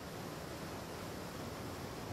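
A waterfall in the underwater video game Super Dive pours as a constant, even rushing hiss that fills the whole moment with no change or voices.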